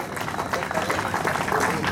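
Audience applause at a cancer awareness run in Hyderabad, a steady wash of many hands clapping close by for about two seconds, with crowd noise mixed in.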